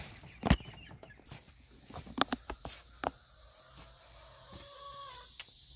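A Silkie chicken scratching and pecking close by outdoors, giving soft scattered clucks and sharp taps, with quieter clucks trailing off near the end.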